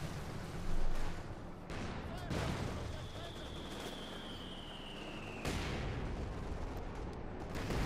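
Panzer IV tank gunfire and explosions in the strategy game Company of Heroes 2, several heavy booms among rumbling battle noise, with a high whine sliding through the middle; a commentator talks over it.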